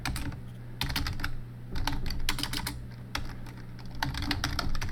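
Rapid clicking of keys on a computer keyboard, bursts of typing with brief pauses, close and clear over a faint hum.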